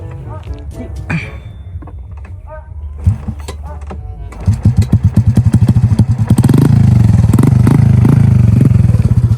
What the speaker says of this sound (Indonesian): Ayo Tante Susi, nyalain motornya